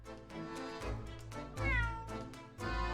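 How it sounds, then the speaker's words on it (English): A cat in the video game The Great Ace Attorney Chronicles meows repeatedly, with several short, close meows in quick succession over a low, sustained game music background. "I want to look at the cat some more."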